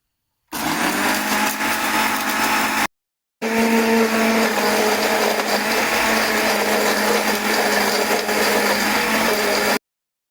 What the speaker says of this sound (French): je vais passer le tout au mixeur